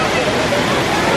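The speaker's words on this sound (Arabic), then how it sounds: "حلو بهذا الشلال" Waterfall pouring at a crowded swimming pool with a restaurant where water runs between the tables, a steady dense rush of splashing water blended with the murmur of a large crowd.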